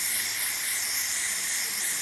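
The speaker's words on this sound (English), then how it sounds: "excellent steam coming out of the machine" Steady, loud hiss of steam jetting from a DeLonghi Magnifica S coffee machine fitted with a new pump, continuous and even throughout with no pauses.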